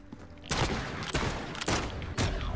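Gunfire in a competitive multiplayer shooter, loud bursts of shots arriving in three or four heavy volleys about half a second apart, close and dense, with no talk over them.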